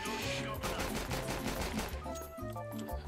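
Rapid gunfire in Counter-Strike 2, a dense run of loud shots over game music and effects, continuing without pause for about three seconds.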